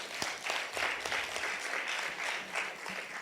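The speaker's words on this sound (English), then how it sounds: "let's give Eric a round of applause, please" An audience at a youth forum for a TVET competition claps steadily, a short stretch of moderate applause from a crowd with no talking over it.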